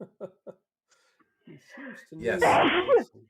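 A single sudden human sneeze bursts out near the end, loud and close, just after brief conversational speech from players at a tabletop role-playing game session.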